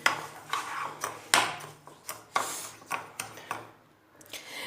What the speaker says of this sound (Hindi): तो अब इसे फेंट लेंगे अच्छे तरीके से, चीनी के अंदर मिक्स करेंगे।